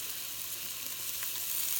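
Onion and minced garlic fry in a pot with bacon, a steady close sizzle and crackle running evenly throughout with no talking.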